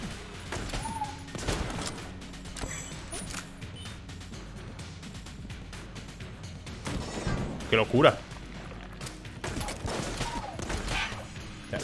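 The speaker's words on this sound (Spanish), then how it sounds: "Disparo la onda con el arma esa" Weapon fire in Enter the Gungeon, repeated bursts of shots and impacts with a sharp crash near the middle, under someone speaking Spanish.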